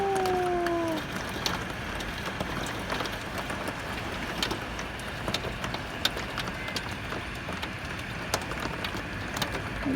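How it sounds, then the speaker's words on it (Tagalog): Heavy rain falls in Kuwait in a dense, steady wash of noise with scattered sharp drip and splash ticks throughout, plus a brief tonal whine near the start; no talk is heard. "It's raining here in Kuwait."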